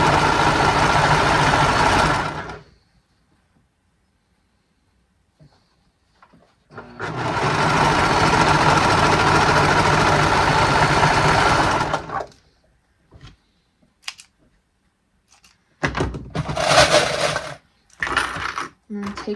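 A sewing machine stitching the leg bands of a cloth romper runs in two long steady whirring bursts separated by silence, then a few short clicks and handling knocks follow, close and clear.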